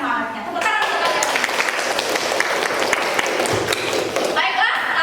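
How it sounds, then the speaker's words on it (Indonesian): A classroom of children applauding together, a dense, steady clatter of many small hands that carries on throughout at even strength, with voices mixed in. "Tepuk tangan untuk kalian."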